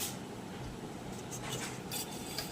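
A cooking pot lid is lifted with a few light metallic clinks over a soft, steady kitchen background, close and fairly quiet.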